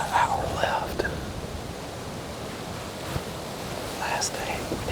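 Strong wind, about 35 mph, gusts across an open Nebraska hunting field, a steady broadband roar with louder buffets near the start and end, with faint low voices briefly under the gusts.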